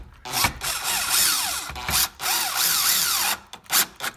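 Power drill whirring as it drives a screw into a wooden vane of an indoor closable shutter blind, several bursts with rising and falling motor pitch and brief stops between, close and loud.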